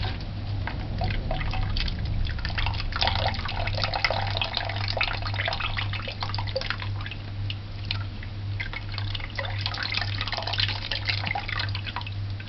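Steady trickling and dripping of coconut water, close by, continuing without pause over a constant low background hum.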